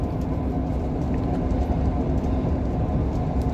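Class 158 Sprinter Express unit 158863 keeps rolling by at close range, a continuous heavy rumble of diesel engine and rail noise with faint higher rattles on top.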